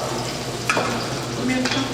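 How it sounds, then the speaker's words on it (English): Garlic sautéing in a pan for a grilled chicken chickpea casserole, a close steady sizzle with a couple of brief scrapes from stirring, no talking. "You want to saute your garlic? Lots of garlic?"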